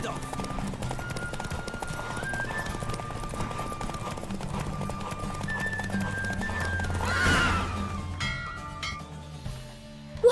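In a Witcher 3 horse race, a galloping horse drums out quick hoofbeats under game music, then lets out a loud neigh that swells midway before the action fades near the end; voices come and go in the mix.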